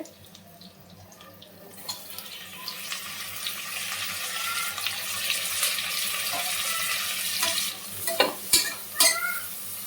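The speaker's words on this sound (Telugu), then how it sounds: "నెక్స్ట్ వచ్చేసి టొమాటోస్ యాడ్ చేస్తున్నాను నేనైతే." Tomatoes fry in hot oil in a pan for egg pulav, a sizzle that swells and holds steady while a spatula stirs and scrapes, ending in a few sharp clinks.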